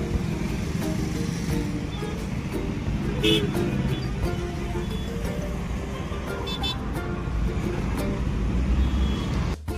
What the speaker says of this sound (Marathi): तर ट्रॅफिक जाम आहे.